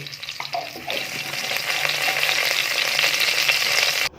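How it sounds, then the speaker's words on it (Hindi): Cumin seeds sizzling in about a spoonful of hot oil in a pan, a steady bright frying hiss that starts after a few light drops and holds close and even until cut off abruptly. "और इसमें थोड़ा सा ज़ीरा डालेंगे।"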